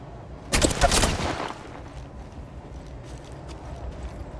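A quick burst of rapid gunfire erupts during a squad fight in the mobile battle royale game Apex Legends Mobile, Cold Snap winter mode, loud for about a second before fading into quieter in-game ambience.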